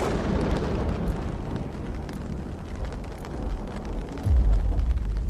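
Thunder on a stormy night rolls as a continuous, loud, broadband rumble, ending in a heavier boom.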